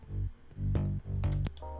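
A gritty mid bass synth layer of a future house bassline made in FL Studio, buzzy and slightly distorted, played in a few short phrases with bright attacks.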